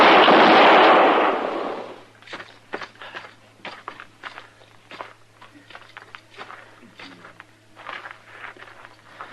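A single loud gunshot blast from a western shootout opens the scene, then fades into scattered scuffs and movement on a quiet background hum.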